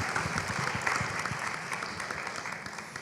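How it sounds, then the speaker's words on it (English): Conference attendees give a round of applause to panelists at the end of a health innovation panel, a brief, even burst of many hands clapping at moderate volume with no talk over it. "Please give a round of applause to Alex, Ted, and Jason, our phenomenal panelists today."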